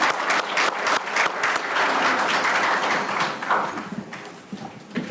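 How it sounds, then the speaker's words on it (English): A township board meeting audience applauds junior ROTC cadets, giving five seconds of dense, sustained clapping that stays loud and fairly near before tapering slightly at the end, with no talk over it. "Can we get a round of applause for the young men and women from the Anchor Bay Junior ROTC?"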